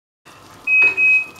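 A kitchen timer goes off nearby with a steady, thin electronic beep that holds for around half a second, over faint background noise.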